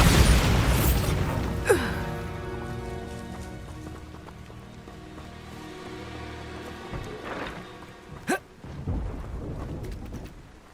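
A Bombarda explosion spell goes off in Hogwarts Legacy, a loud booming blast amid dense game music and effects, followed by a few sharp crackling bursts and a deep rumble.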